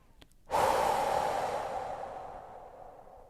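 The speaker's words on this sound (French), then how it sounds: "On prend une grande respiration." A deep breath during a meditation session: one long, airy exhale that starts suddenly and fades slowly over about three seconds, close and alone with no speech.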